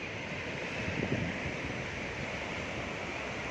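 Waves washing onto Calangute Beach in Goa at night, a steady, soft surf wash with wind noise and a slight swell near the one-second mark, and no talk.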